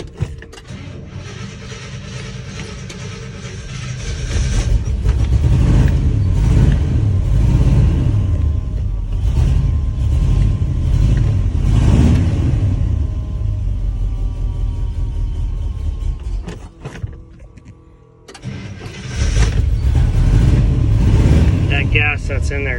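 A 1975 International 200 pickup, found sitting in a field, cranks and catches, its engine rumbling loudly up close with repeated revving surges, then dips and nearly stalls before roaring again, with people talking over it.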